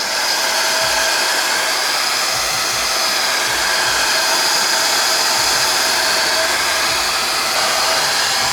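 A heat gun blowing steadily and loudly at close range while shrinking heat-shrink tubing over a bike's brake switch wiring, a continuous even whoosh with no talk.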